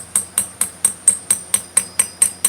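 A hammer strikes a chisel engraving a 30 lb sledgehammer, ten sharp metallic taps in a steady, even rhythm about a quarter second apart, close and clear with no talk.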